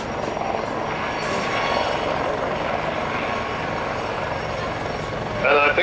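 A Royal Navy Lynx helicopter flying an airshow display, a steady loud rotor and engine roar filling the whole span, rising slightly at the end, with no talk over it.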